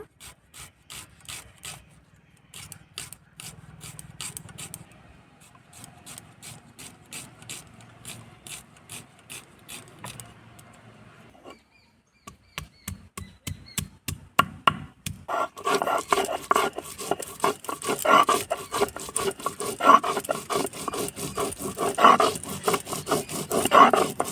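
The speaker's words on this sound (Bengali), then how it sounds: "পেঁয়াজগুলো ঝুড়ি ঝুড়ি করে কেটে নেব।" A knife chops onions finely on a board in a home kitchen. Quick rhythmic taps run throughout, gentle at first and then louder and crisper, with short pauses between runs of cuts.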